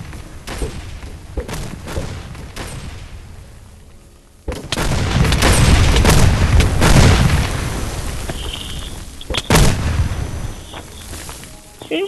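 Bombs exploding in a Minecraft Bedrock mod game, heavy booming blasts and a long rumbling burst of detonations, loud and close, with no speech over them.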